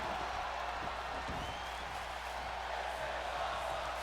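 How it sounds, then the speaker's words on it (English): Steady crowd cheering and applause from a WWE 2K20 NXT wrestling match fills the whole stretch as a constant, dense roar with no breaks. "And the crowd goes wild here tonight"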